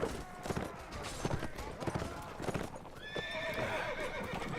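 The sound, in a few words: horses galloping in a video game battle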